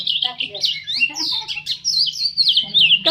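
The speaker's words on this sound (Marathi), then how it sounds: "चिमल्यांचा पण आवाज बघा कसला किलबिलाट सुटलाय" Sparrows chirp busily and continuously over scattered grain, a dense overlapping chatter of high tweets, fairly close, with a faint low hum underneath.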